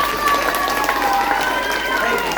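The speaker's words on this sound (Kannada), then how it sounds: "ಸರ್ ಜೋರಾಗಿ ಚಪ್ಪಾಳೆ ಬರ್ರಿ." Audience clapping for a magician at a Ganesh festival event, a steady wash of many hands applauding throughout, with a faint whistle-like tone running through it.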